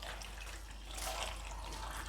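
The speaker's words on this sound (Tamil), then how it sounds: "நம்ம இதுக்கு ஒரு கப்போட தண்ணி ஆட் பண்ணிக்கிடுதேன்." Water pours steadily from a cup into a pot of cut tomatoes being made into homemade tomato sauce. The pour is a soft, continuous splashing wash, faint and unbroken, with no voices.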